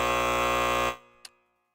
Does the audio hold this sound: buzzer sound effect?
yes